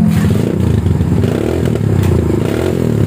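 A Kawasaki W175 motorcycle with a racing exhaust idles steadily nearby, its exhaust giving a deep, throaty, rapid burble with slight rattles and no voices.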